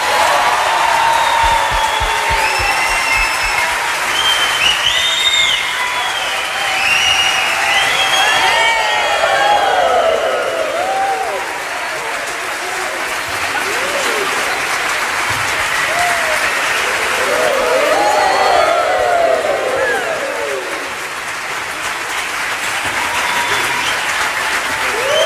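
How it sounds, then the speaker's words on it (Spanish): A concert audience gives its biggest applause of the night to a choir, with long, loud sustained clapping mixed with cheers, whoops and shouting voices that swell and ease over the whole stretch. "el último aplauso, el más grande de la noche"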